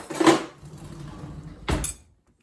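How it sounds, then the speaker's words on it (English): Cooked garlic is smashed in a pan with Fontina cheese, giving two clattering knocks of a utensil against the pan about a second and a half apart, with a soft scraping between them. "What we need to do is come in here and smash up the garlic"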